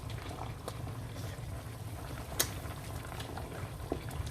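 Meat simmers in a pot of boiling water, giving a continuous bubbling and popping texture at a steady level with occasional sharper pops.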